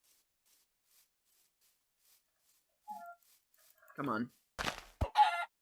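After near silence, a few short Minecraft chicken clucks and squawks pop up close, interrupted by a brief spoken remark.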